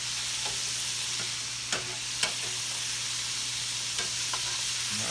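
Chicken livers fry in hot grease, a steady close sizzle with occasional sharp pops and spatters, and no voices.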